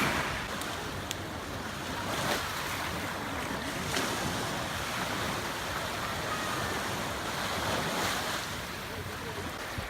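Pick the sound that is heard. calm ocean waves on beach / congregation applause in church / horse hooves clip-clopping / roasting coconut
calm ocean waves on beach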